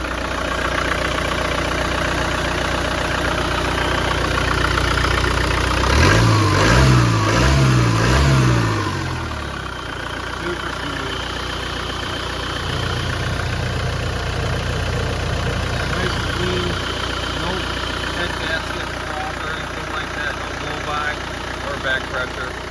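A 1984 Land Rover 110 with a 300Tdi diesel engine runs steadily, revving up in a brief loud burst before settling back to a rumbling idle nearby, with some talk over it.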